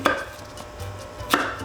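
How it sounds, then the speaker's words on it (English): Kitchen knife slicing an onion on a cutting board, two crisp chopping knocks about a second apart with quiet scraping between, close and clear with no talking. "I'm just gonna cut along all those little striations, angling my knife"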